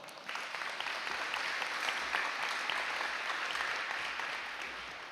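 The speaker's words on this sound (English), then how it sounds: "let's give a round of applause to Mr. Eric Aldaco" A round of applause breaks out at a high school National Honor Society induction and hooding ceremony, sustained crowd clapping that holds steady before tapering slightly at the end, heard from some distance.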